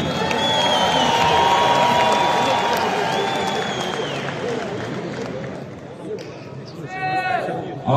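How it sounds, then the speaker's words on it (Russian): Crowd at a fight event applauding and cheering a fighter, loud dense clapping mixed with shouts and whoops that gradually thins out, with voices and a brief whistle-like tone near the end. "Давайте поприветствуем его аплодисментами."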